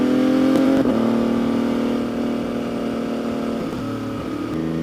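A close, loud MV Agusta 800cc motorcycle engine holds a high, wet, screaming rev, dips briefly, then carries on at a steady, slightly lower pitch.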